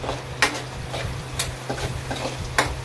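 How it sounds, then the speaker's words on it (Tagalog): Onion and garlic sautéing in pork fat in a home kitchen pan: steady soft sizzling with intermittent scraping stirs and utensil clicks close up, no talking. "Medyo i-brown natin guys yung ating sibuyas sa kabawang"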